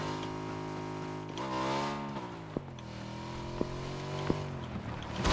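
A motorbike ridden in a video game gives a steady tonal engine whine that rises and falls with gear-like pitch shifts, punctuated by a few sharp clicks, with no talking.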